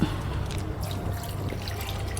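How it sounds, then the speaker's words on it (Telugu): Water trickles and pours steadily onto soil in a pot with freshly sown seeds for a couple of seconds, a soft continuous splashing close by with no talking. "ఇప్పుడు లైట్గా నీళ్లు కొడదాం"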